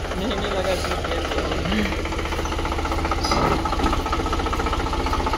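A tractor engine runs steadily nearby while bricks are loaded into its trolley at a house building site, a constant rhythmic diesel chugging under people talking.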